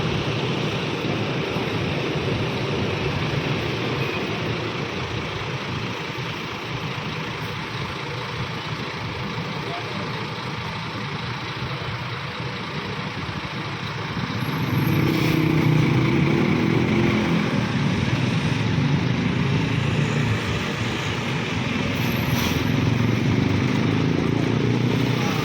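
A Volvo bus engine at full throttle gives a steady, broad rumble heard from inside, which swells louder about two-thirds of the way through as the bus accelerates.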